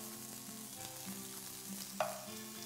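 Eggplant fries in a wok with a steady, soft sizzle throughout, broken near the end by a single sharp metallic clink.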